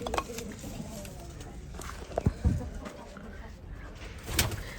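Pigeons in a coop that also holds quails, cooing softly at a distance as the enclosure is opened, with faint rustling, a few sharp knocks and thuds, and quiet background ambience.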